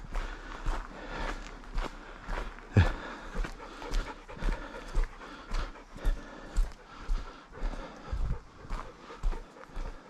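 A dog pants steadily on a woodland walk near Pigeon River, Ontario, rhythmic close breaths mixed with footsteps crunching along the trail, with no talking.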